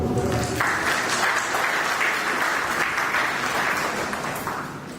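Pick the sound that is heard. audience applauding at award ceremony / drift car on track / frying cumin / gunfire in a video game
audience applauding at award ceremony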